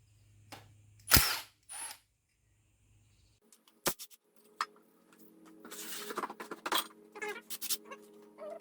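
A hand ratchet clicks in short bursts while removing 13mm intake manifold bolts on a Ford Ranger 2.5-litre engine, sharp close metallic snaps and rapid pawl clicking scattered across an otherwise quiet workshop.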